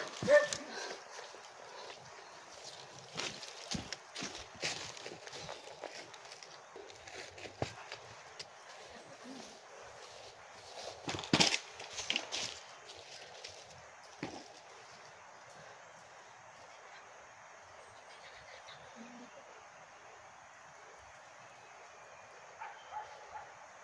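Dogs bark intermittently at a distance on Burias Island, scattered sharp yaps over a quiet background, with occasional faint voices.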